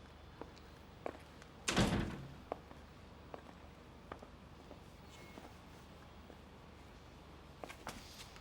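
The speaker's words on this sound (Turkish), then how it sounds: "Kapıyı da kapatalım." A door swings shut with a single firm thud indoors during a quiet domestic scene in a Turkish drama, followed by faint room noises and soft movement.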